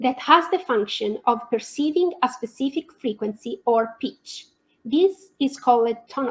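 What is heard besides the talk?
No distinct noise like a dog, phone or traffic.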